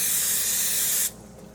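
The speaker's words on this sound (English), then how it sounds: "This is canola spray." A close, loud hiss of canola oil spray from an aerosol can for about a second, then it stops abruptly, leaving a quiet room.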